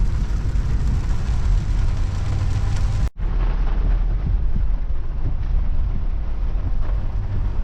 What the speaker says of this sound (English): It's got windy.